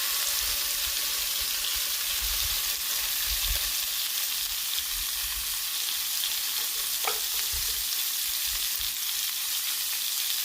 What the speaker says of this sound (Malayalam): ഞാൻ മീൻ വറുക്കാനായിട്ട് ഉപയോഗിക്കുന്നത് സാധാ നമ്മുടെ കോക്കനട്ട് ഓയിൽ തന്നെയാണ്